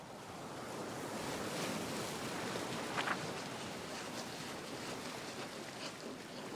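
Steady wash of ocean surf rolling continuously in a video game, with a breezy, windy hiss over the top and no voices.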